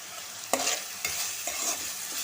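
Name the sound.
sautéing salted onion in a pan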